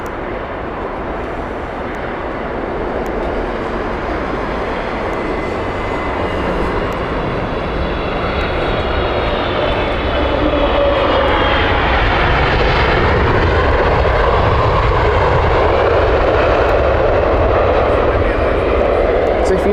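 Jet engines of an Egypt Air Boeing 777 airliner at Heathrow Airport make a broad, steady roar that swells louder through the second half, with people talking over it.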